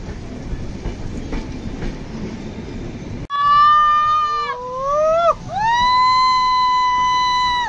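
A passenger train runs in the rain on a Vijayawada to Goa route. A low rumble gives way to long, loud horn blasts, the pitch bending briefly between them, ringing out close by.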